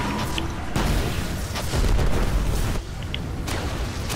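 Booming gunfire from the Destiny video game arrives in a few heavy, close bursts over continuous battle rumble, with no voices.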